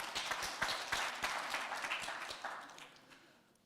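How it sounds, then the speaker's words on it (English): Convention audience clapping for themselves, a moderate crowd's scattered, distinct hand claps that gradually thin and fade out toward the end. "Let's clap for ourselves."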